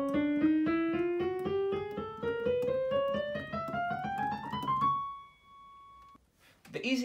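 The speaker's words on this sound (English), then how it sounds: "The chromatic scale sounds like this." Piano playing a rapid ascending chromatic scale, evenly spaced notes climbing to a held top note, then a brief voice.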